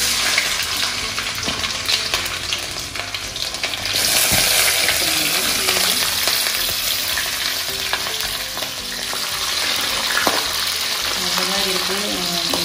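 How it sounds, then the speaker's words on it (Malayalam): Ginger and garlic sizzle in hot coconut oil with mustard seeds for a hog plum pickle, a loud, continuous frying hiss with occasional stirring, nearly free of talk. "കടുക് പൊട്ടിയാൽ ഇതിലേക്ക് നമുക്ക് ഇഞ്ചിയും വെളുത്തുള്ളിയും ഇട്ട് കൊടുക്കാം."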